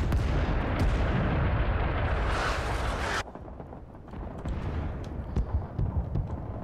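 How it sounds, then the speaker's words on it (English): Napalm air strike in Rising Storm 2: Vietnam, a loud rumbling roar of fire and explosion that cuts off abruptly, followed by scattered distant gunfire and cracks. "There's that napalm drop."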